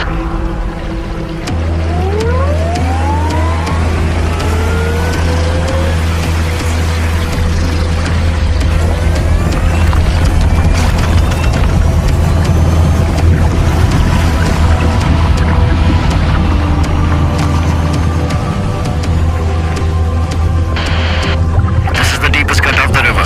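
A Tata Harrier EV driving through a river crossing, a constant low rush of churning water and drivetrain rumble with occasional whining tones, while people talk over it throughout.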